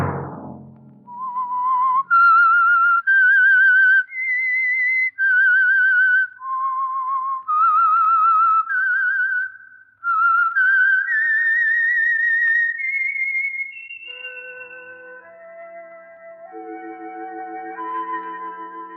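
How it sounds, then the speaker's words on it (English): A clear solo whistled theme melody from the classic radio show The Whistler, with sustained, slightly wavering notes in phrases, ending with softer held tones as music enters underneath. "Let that whistle be your signal"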